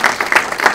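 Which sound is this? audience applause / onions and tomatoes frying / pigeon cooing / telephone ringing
audience applause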